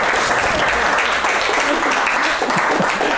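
A live audience at a programming talk on higher-order abstract syntax claps steadily and fairly loudly for the full stretch, a dense wash of many hands with no break.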